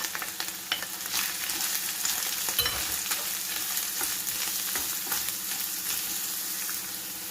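Onions frying in oil with minced meat in a pan, a dense continuous sizzle with crackles and occasional scraping of a stirring utensil, close and steady throughout.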